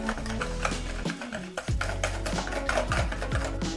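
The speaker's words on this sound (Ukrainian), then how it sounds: "перемішуємо це все, щоб цукор розчинився і утворилась однорідна маса" Butter and sugar being stirred together for Christmas stollen dough, heard as quick scraping and clinking strokes of a utensil against a bowl, close and rhythmic, with a steady tonal hum underneath.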